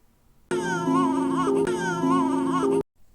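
A newborn baby cries in two loud, drawn-out wails with a brief break between them, an "eh"-like vowel sound heard close up with nothing else around.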